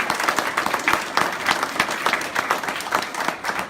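A crowd applauds Four Seasons Teacher of the Year Coach Patrick Buckner: steady, dense clapping throughout at close range, with no clear speech over it.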